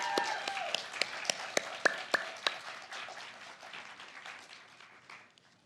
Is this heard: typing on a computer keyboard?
no